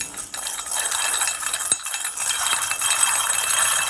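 A dry wheel bearing from a 1982 Suzuki RM250 motorcycle spun by hand after penetrant was injected, producing a close, continuous rough rattling hiss with occasional faint clinks, no speech.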